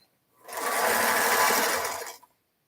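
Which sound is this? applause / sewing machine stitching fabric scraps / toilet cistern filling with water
sewing machine stitching fabric scraps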